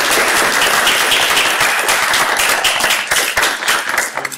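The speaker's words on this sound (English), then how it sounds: "just a round of applause for our panel." Dense, steady applause from an audience honoring a panel at a real estate colloquium on affordable housing, filling the room for several seconds before thinning slightly at the end.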